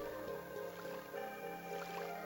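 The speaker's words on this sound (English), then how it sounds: "If you hear that water, that's a full heal" Game audio from Virtual Hydlide on the Sega Saturn, with a faint, steady trickle of flowing water. A low, droning musical tone plays alongside it, and no one speaks.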